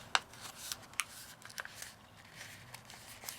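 Paper being creased and folded in half to make a small pen-pal booklet, heard as a few soft, close crinkling and snapping touches spaced irregularly over quiet room tone, with no talking.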